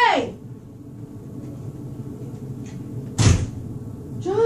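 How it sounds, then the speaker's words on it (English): Cruise ship cabin door on Majesty of the Seas, a short latch-and-swing noise around the middle, close and fairly loud. Quieter room noise and a voice come before and after it. "Our door just opened."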